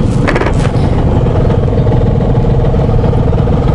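A motorcycle engine idles steadily at a red light in Jakarta traffic, producing a loud, close, continuous rumble with an even mechanical hum and no breaks.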